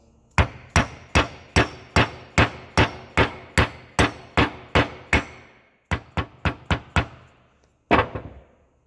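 A dead blow hammer strikes a Brembo brake part about fourteen times, loud sharp knocks in a steady, evenly spaced series, then a short pause, a quicker burst of five, and one final blow.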